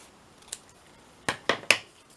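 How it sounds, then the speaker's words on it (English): Scissors snip off a paper lip during papercraft, one light snip followed by three sharp, close cuts in quick succession, with no talk. "Now I've done this one so it's got a lip there, so I'm going to cut this off."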